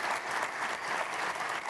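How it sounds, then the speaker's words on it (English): A conference audience applauds the infrastructure panellists, a brief, even burst of many hands clapping that stays at full strength from start to finish. "a round of applause for my colleagues"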